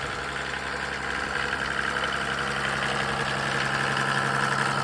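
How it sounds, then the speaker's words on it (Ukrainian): A Mercedes OM603 3.0 diesel engine in good condition drives a PN-40 irrigation pump, humming in a smooth, steady, close idle with a faint knocking undertone and no variation. "Мотор не димить, мотор в класному стані, насос теж в класному стані, відбалансовано, робить рівненько їм, не труханить"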